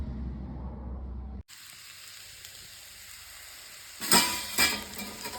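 Bitter gourd frying in a pan on low heat: a low murmur, then a faint, thin sizzle after a sudden cut, and a brief louder burst of crackling and stirring near the end, with no talking.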